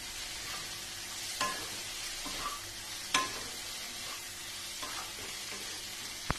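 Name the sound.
sautéing cauliflower curry with Kashmiri chili powder, stirring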